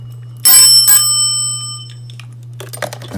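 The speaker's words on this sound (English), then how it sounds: "This one is a Fujitec bell." A Fujitec elevator bell is struck twice in quick succession, loud and close, its bright metallic tone ringing out and fading slowly over a steady low hum.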